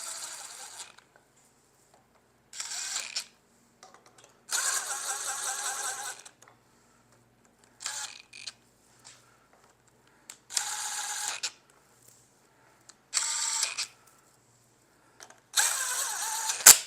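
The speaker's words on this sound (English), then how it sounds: "Now we're going to take my impact driver, but we're not going to impact these things down. We're just going to snug them" A small impact driver snugs aluminum cylinder head bolts in short separate bursts, about six buzzy mechanical runs with quiet gaps between them, close and moderately loud.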